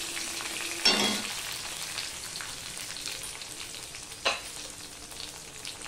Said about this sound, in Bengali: এই অবস্থায় আমি চিড়ে রাখা কাঁচা লঙ্কাগুলো দিয়ে দিলাম।